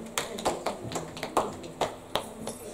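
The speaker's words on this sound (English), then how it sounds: "Clap your hands and celebrate God." A church congregation claps in a slow, steady rhythm, sharp claps landing roughly twice a second, moderately close, over a faint background murmur.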